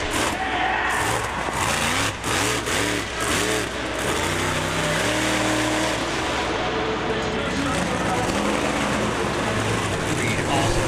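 The War Wizard monster truck roars at Bristol Motor Speedway in Tennessee, a loud, rough engine that rises and falls as it revs throughout, with an announcer talking over it.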